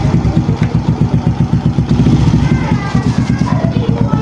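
A Suzuki Smash motorcycle engine, wired to run on battery, runs close by with a rapid, pulsing single-cylinder putter that holds fairly steady and loud throughout, with someone talking over it.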